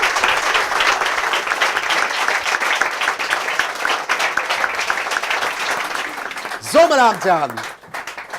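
Audience at a German live talk show event applauds warmly, a steady roar of many clapping hands for several seconds before it fades and a voice begins speaking over the last of it.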